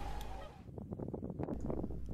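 A flock of swans forages in a field near Higashi-Rokusen Station on the Soya Main Line in Hokkaido, giving repeated nasal honking calls that overlap in quick, uneven bursts at moderate loudness over steady low background noise.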